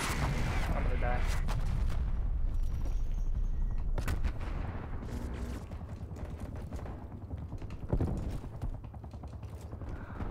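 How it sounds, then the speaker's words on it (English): An artillery strike in the Call of Duty Black Ops Cold War multiplayer game: a dense, loud run of booming blasts and gunfire crackle, with a burst-like thud near the end. "Artillery targeting detected. Artillery inbound."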